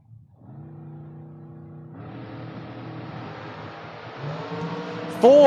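A 21 Maddox chassis drag car and a first-generation Camaro rumble on the line, then build into a loud, rising engine roar as they launch, with an announcer talking over it.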